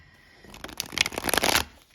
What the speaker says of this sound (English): So just shuffle the cards up a little bit here.